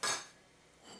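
A metal lid is set onto a pot of braising dove with a bright clatter, followed by a fainter second clink as it settles.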